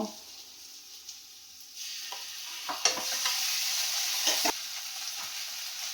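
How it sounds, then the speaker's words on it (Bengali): Ginger paste sizzles in a pan with fried onion and tomato, starting quieter and growing to a loud, steady sizzle with sharp stirring scrapes, no voices. "দেখো আদাটা আমার ভাজা হয়ে গেছে"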